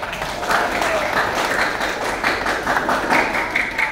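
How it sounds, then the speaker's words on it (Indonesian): Classroom audience clapping for a pair of students, a dense, steady round of applause that runs fairly loud and close throughout. "Ya, tepuk tangan untuk pasangan."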